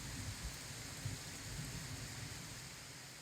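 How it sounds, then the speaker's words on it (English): Heavy rain pours steadily through a forest canopy, a dense continuous hiss with low thunder rumbling underneath throughout, no voices. "The rain was really coming down through all of the branches, even when we were running through the forest to get back."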